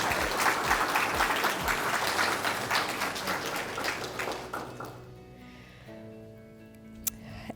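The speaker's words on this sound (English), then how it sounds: "Let's give them another round of applause." Audience applause at a university materials science awards celebration: dense, steady clapping that fades out after about five seconds, leaving a quiet room with a faint hum.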